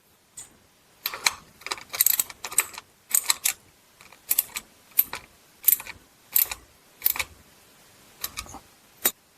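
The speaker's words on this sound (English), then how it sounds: "put your plug back on there and torque that to 25 Nm or 106 inch-pounds" A torque wrench tightening a transmission drain plug on a Ford 6F35 transmission, heard close up as a series of sharp metallic ratchet clicks in short irregular bursts against quiet.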